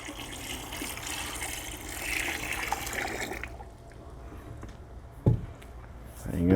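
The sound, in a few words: gallon of water poured into coco coir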